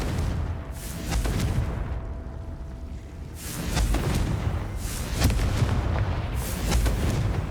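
Confringo fire spell blasts in Hogwarts Legacy go off as a series of loud, booming bursts with rumbling tails, separated by brief quieter gaps.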